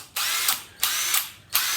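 A titanium range impact driver used for driving screws into softer materials runs in three close, loud bursts of high whirring with short pauses between them.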